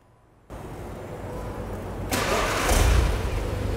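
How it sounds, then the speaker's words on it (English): A Volkswagen Golf engine cranks and catches, its low rumble building into a steady, louder idle with no voices. "we certainly have to start the engines"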